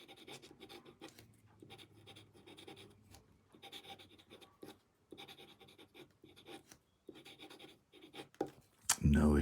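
A Lamy medium-nib fountain pen scratches across paper in short, faint strokes with pauses between them, ending in a louder rustle.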